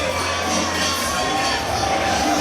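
A big crowd at a live wrestling event in Port St. Lucie roars and cheers steadily, a dense, loud wall of shouts and cheering that holds without a break.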